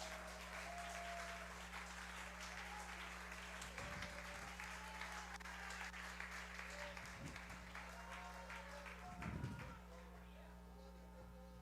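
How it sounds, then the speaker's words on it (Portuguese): Church congregation applauding Jesus at a sermon, a sustained quiet patter of many hands over a constant low hum, with a few louder thumps. "Oh, aplauda Jesus!"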